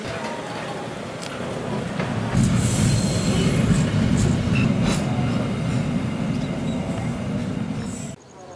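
Walahar 317, a commuter train, rolls into a station with a heavy, continuous rumble and squealing wheels. The sound builds and stays loud for several seconds, then cuts off abruptly near the end.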